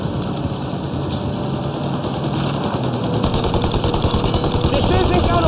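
Plane engines roar steadily in the Mafia Definitive Edition video game, a loud continuous drone that swells toward the end, with excited voices shouting over it.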